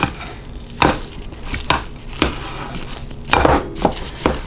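Ground meat worked with garlic powder and oregano using a wooden spurtle, irregular soft thuds and scraping knocks against the bowl at close range.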